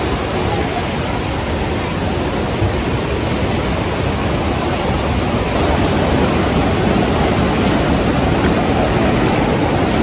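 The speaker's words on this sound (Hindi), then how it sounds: "ये है वाटरफॉल।" A waterfall near Ponmudi Dam in Idukki gives a constant, dense rushing roar of falling water. The sound stays loud and unbroken for the full ten seconds, with no distinct individual splashes.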